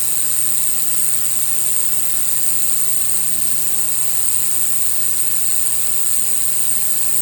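An ultrasonic cleaner runs with the parts of a 140-year-old gun inside, giving a steady, unbroken electronic hum and high whine with a faint buzz, constant and close throughout with no talking.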